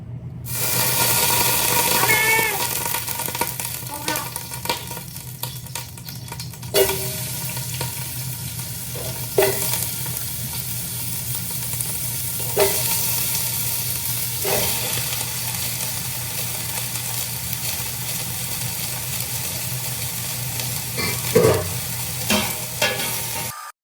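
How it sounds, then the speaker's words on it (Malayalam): Vegetables for aviyal sautéing in oil in a pan, a continuous close sizzle with repeated sharp scraping stirs and clatters of the utensil against the pan. "ആദ്യം കുറച്ച് എണ്ണ ഒഴിച്ചിട്ട് ഈ വെജിറ്റബിൾസ് ഒക്കെ ഒന്ന് സോട്ട് ചെയ്തെടുക്കാം"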